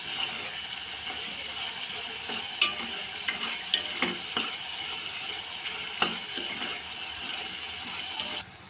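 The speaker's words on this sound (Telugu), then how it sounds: "ఇప్పుడు కరివేపాకు వేసుకున్నాము 2 రెబ్బలు." Curry leaves crackle and sizzle in hot oil with green chilies while preparing an Andhra-style prawn egg curry, a steady frying hiss broken by several sharp pops and the scrape of stirring, with no talking.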